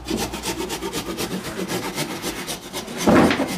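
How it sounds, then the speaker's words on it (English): Saw cutting a joint in old timber framing during a repair, a close, even rasping stroke rhythm that ends with a louder, rougher scrape. "Just cutting that so the joint's really, really tight and snug."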